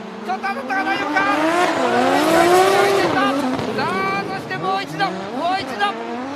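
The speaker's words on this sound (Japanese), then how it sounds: "さあ逃げる末永雅夫、 今エンジン音が高鳴る、この兄弟対決、" D1GP drift cars battle in a 2021 run, engines roaring and revving with rising and falling pitch while tires squeal, loud and close, as an excited commentator talks over the action.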